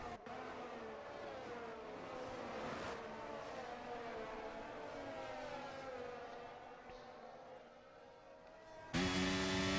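Formula 1 race car engines whine and rise in pitch during a Bahrain race in F1 2023, several cars heard close, with commentators talking over them and a sudden louder burst at the end.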